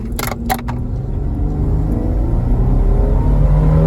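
A Holden VY Commodore launches from a standstill and pulls hard up through the revs, its engine a loud, close, rising roar that builds steadily, with a few short clicks at the start.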